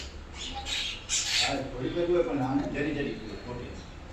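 Crows and sparrows call during rain, with harsh squawks and chirps over a steady wash of rainfall, and a person talks nearby.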